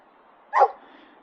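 A reactive dog gives one sharp, close bark in an otherwise quiet moment.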